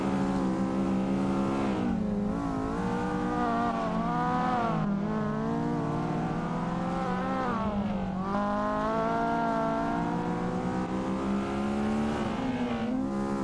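Race car engines roar in Assetto Corsa during a sim racing touge tournament on a mountain road, a sustained loud whine rising and falling in pitch as the cars rev and shift, with no talking.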